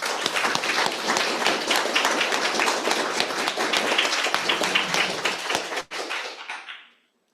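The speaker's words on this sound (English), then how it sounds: "Let's welcome our speaker with a hearty round of applause." An audience at a cultural talk welcomes the speaker with a full, lively round of applause, dense and sustained, with a thump near the end before it fades out.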